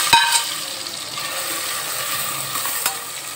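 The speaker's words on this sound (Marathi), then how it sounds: "आता त्यामध्ये मी हे टोमॅटो टाकत आहे।" Onion and tomatoes sizzle in a hot pan for vegetable biryani, a close, steady frying hiss with a stir or clink at the start and another near the end.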